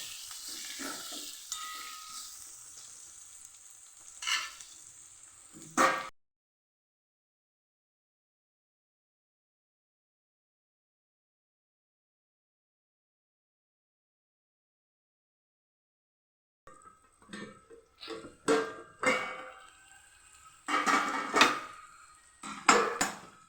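Kathiyawadi aalkun sambharo being stirred in a pan, with scraping, clinking utensil strokes and light sizzling in two bursts separated by a long silent gap.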